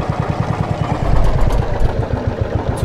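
A tractor engine revs in the Traktor-Werkstatt-Simulator 2015 game, a loud, steady rumbling drone that swells in the middle and stays close throughout with no talk.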